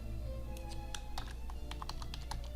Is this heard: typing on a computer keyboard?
yes